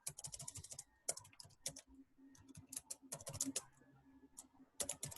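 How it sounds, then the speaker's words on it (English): Fingers type a commit message on a computer keyboard, with quick, close key clicks in uneven bursts separated by brief pauses; the typing is quiet and has no voices over it. "I'm going to type my message"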